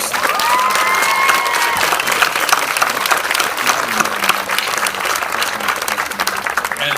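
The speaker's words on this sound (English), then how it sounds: "How about a round of applause for our 3 class speakers?" A graduation ceremony audience gives a round of applause for three class speakers, with dense, steady clapping and some cheering for several seconds, loud and continuous.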